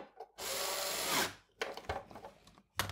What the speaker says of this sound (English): we also need to drill it out.